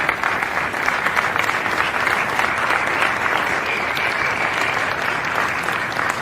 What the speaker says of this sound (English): Everyone's clapping.